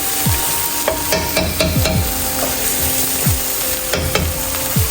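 Curry saltfish and tin mackerel rundown stirred in a sizzling pan, repeated close scraping strokes of a utensil over a constant frying hiss, with no talking.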